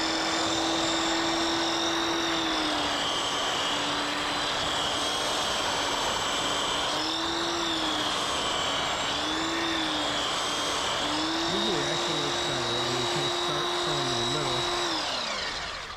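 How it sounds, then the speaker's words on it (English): A belt sander works a giant timber for a timber-frame collar tie, a loud, continuous high whine that dips and rises in pitch as the load changes, close by and without a break. "now we're going to switch it to the drum sander. Belt sander."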